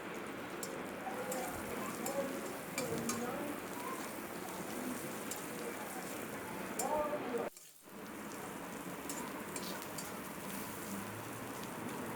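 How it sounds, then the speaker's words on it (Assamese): Onions and chillies with turmeric frying in oil for a simple Assamese vegetarian thali, a close, steady crackling sizzle that runs unbroken except for one brief pause. "তাৰপিছত এইখিনি অলপমান কোমলি যোৱালৈকে ভাজি থাকিম।"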